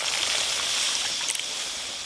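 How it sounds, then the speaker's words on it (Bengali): Water poured into a pan of frying spice paste for a fish curry, giving a short burst of bright hissing, bubbling rush that holds steady and then eases slightly. "এবার জল দেব।"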